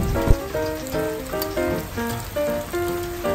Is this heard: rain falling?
yes